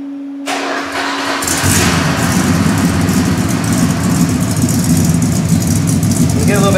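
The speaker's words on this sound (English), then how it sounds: "a nice feel for the sound of the exhaust system" A 1967 car with a custom stainless dual exhaust, Magnaflow mufflers and factory-style downturned tips fires up after a brief electric whine. It then settles into a steady, deep, burbling idle, close and loud throughout.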